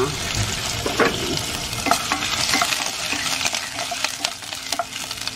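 Ginger sautéing in a cooking pot, a steady close sizzle with repeated stirring scrapes and clinks running throughout, no talking.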